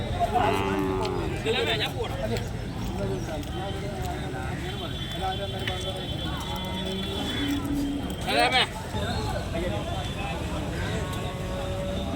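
Young buffalo calves moo repeatedly at the Edakkara cattle market in Kerala, the calls close and loud over market bustle. People talk throughout.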